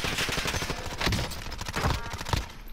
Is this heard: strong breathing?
no